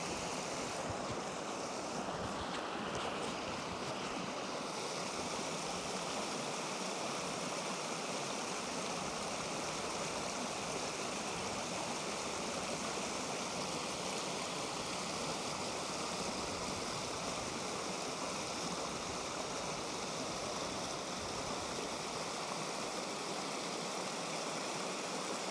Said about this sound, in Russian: Очень красиво шумит вода.